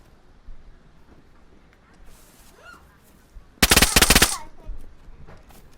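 Rapid automatic gunfire burst in the survival shooter game DayZ, a loud dense volley of about a second after quieter ambient moments, with a few trailing shots.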